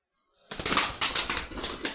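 A tumbler pigeon, grey with ash-colored speckles, beats its wings in a burst of rapid, close flaps, a series of quick whooshing pulses that starts abruptly after a brief silence.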